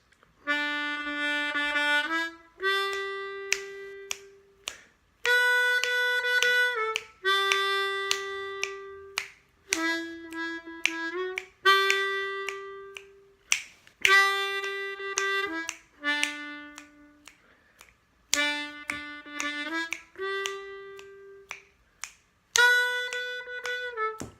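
A harmonica plays a slow, simple melody of "This Little Light of Mine" in second position in the low register, with clear sustained notes and short breaths between phrases.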